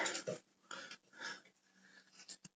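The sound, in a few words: dogs panting after treats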